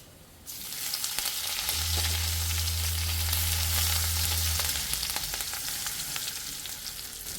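Curry leaves and chilli powder hit hot frying oil, setting off a sudden loud, close sizzle that holds steady for several seconds and then eases slightly, with no talking.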